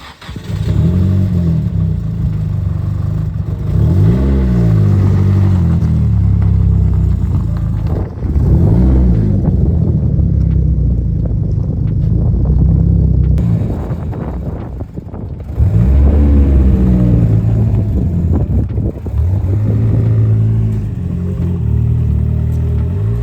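A car engine with a leaking downpipe revs hard and close in several repeated bursts, pitch climbing and falling between steadier stretches of loud running.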